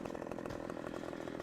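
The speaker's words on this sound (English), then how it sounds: "this is one of the new items, a chainsaw." Chainsaw in the Farming Simulator 2015 video game, a steady, loud buzzing engine drone with a fast rhythmic chatter that holds unbroken for the whole stretch, no voices over it.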